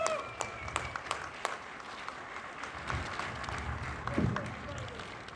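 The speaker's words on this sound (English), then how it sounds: "Let's give him a good applause." Scattered, fairly light applause from an audience at a sportsmen's club gathering, uneven claps spread across a murmuring room with voices chatting underneath.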